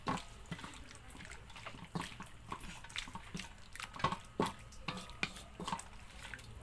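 Water goes into a pot of pork adobo while it cooks, a soft, uneven splashing and trickling with scattered drips and clinks. It is faint and close, with no one speaking.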